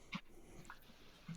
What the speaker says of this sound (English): tell us about your dog back there